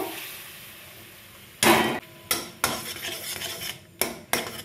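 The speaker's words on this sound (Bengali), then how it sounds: "একটা কড়াই বসিয়েছি, আমটা আমি একটুখানি জাল দিয়ে নেব।" A ladle stirs strained, very sweet mango pulp heating in a wok, producing several sharp metallic scrapes and knocks in separate bursts over a quiet background hiss, close by and with no speech.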